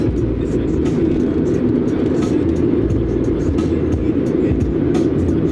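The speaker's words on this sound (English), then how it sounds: "thank you, mystery car. I don't know what kind of car you are." A car passes along a road, its broad rumbling engine and tyre noise holding steady and fairly loud throughout, with no break or clear approach and fade.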